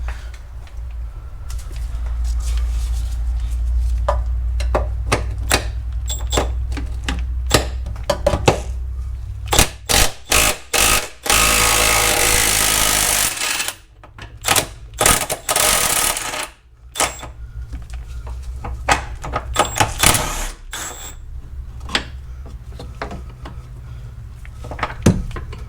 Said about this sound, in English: Let me try to put a wrench on the nut.